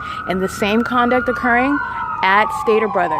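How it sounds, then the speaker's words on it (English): An AMR ambulance siren wails steadily nearby on a street, its tone slowly falling as it passes, while someone talks over it throughout. "That is the ambulance again"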